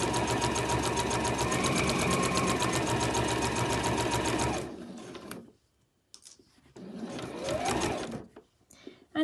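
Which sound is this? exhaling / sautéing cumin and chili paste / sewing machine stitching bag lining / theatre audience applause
sewing machine stitching bag lining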